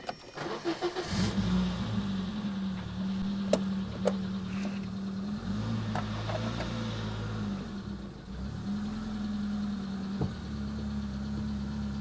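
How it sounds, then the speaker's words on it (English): A Peugeot 106 Rallye phase 1 hatchback starts up and drives off, its engine rising through revs with a strong low growl, steady acceleration and shifts in pitch, heard from inside the car with occasional clicks and knocks. "let's take the car for a spin."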